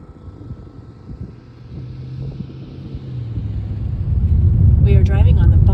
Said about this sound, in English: We are driving on the Bonneville Salt Flats in Utah.